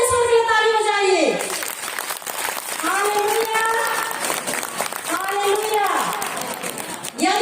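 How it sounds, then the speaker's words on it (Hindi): A church congregation claps loudly and continuously while a preacher's voice rings out over it, the applause dense and sustained under the speech. "जोर से ईश्वर की ताली बजाइए।"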